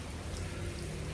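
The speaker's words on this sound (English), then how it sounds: "Sorry about the rain, not much I can do about that." Steady rain falling in Vietnam, a dense, even hiss that fills the short moment with no breaks and no voices over it.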